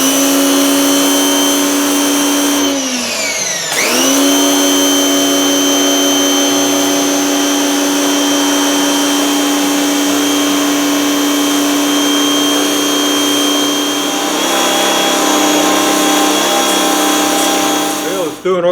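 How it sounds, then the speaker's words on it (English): A cheap little pressure washer blasts at a South Bend 11-inch lathe under rebuild, a loud, sustained motor whine with steady pump drone, briefly dipping and restarting early on, then running continuously to the end. "Let's see what my cheap little pressure washer will do on this lathe."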